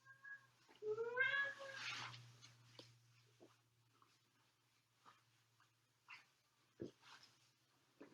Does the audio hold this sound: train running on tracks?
no